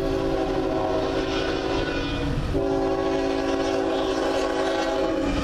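A CN freight train rolls past with a GE Evolution-series locomotive leading, its engine drone steady and loud throughout and a slight shift in tone midway as the train continues by.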